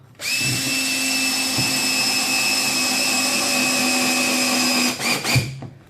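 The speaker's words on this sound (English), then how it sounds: "with a few wood screws get it in through the top" A loud power drill driving wood screws into benchwork whines at a steady pitch for about five seconds, then stops with a few short bursts and clicks.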